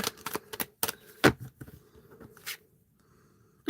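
Tarot cards are riffled and snapped together in quick bursts of crisp flicking, then tapped and settled, close up in a quiet room.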